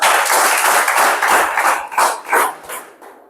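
A room of participants at a faculty development session on bio 3D printing claps for a student, a burst of close, vigorous clapping that thins into a few scattered claps and dies away.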